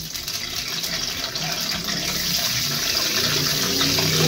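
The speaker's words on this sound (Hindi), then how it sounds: "तेल मेरा बहुत गर्म हो चुका है तो मैं डाल देती हूँ" Broccoli drops into very hot oil for frying, setting off a loud, steady sizzling hiss that swells slightly as it goes on, close by and without speech.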